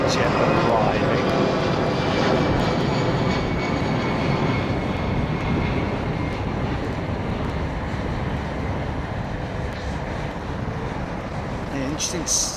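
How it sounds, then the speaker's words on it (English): A China Southern jet airliner arriving at Heathrow produces a steady, broad engine roar that stays loud and constant for over twelve seconds, with a slight easing toward the end. "some China Southern jet arriving."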